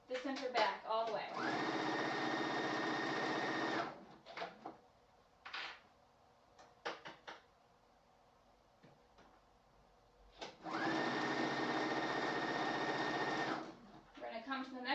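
Sewing machine stitches across the center back of a one-piece shawl collar in two sustained runs of steady whirring, separated by a pause filled with quiet handling and a voice talking.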